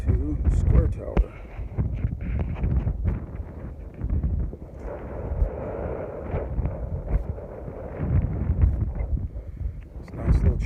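Gusty wind rumbles against the microphone throughout, with people talking faintly underneath amid scattered outdoor clatter.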